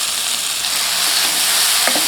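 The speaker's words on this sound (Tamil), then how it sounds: "இதெல்லாம் நல்லா பச்சை வாசனை போகிற வரை வதக்கி எடுத்துக்கலாம்." Mushrooms sauté with spices in a pan for a restaurant-style mushroom masala. A steady close sizzle and frying hiss runs throughout, with a couple of faint stirring taps near the end.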